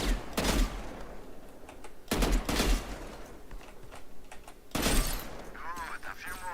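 Three loud bursts of video game gunfire aimed at bots, each a sharp cluster of shots spaced a couple of seconds apart, with someone speaking between the volleys.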